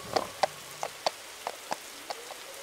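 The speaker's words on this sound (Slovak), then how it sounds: "Á, prší." Rain in a forest falls as scattered, separate drips and light taps, roughly two or three to the second, each one crisp and close over quiet surroundings.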